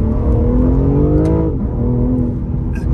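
A car with an 8-speed ZF gearbox accelerates hard, its engine note rising in steady harmonics, then dropping at a gear change before climbing again, loud and close with no voices.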